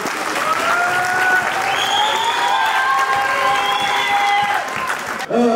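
Steady applause from an audience at the opening of a sports gym in Lyon, dense and continuous over background voices and cheering, then cutting off abruptly near the end.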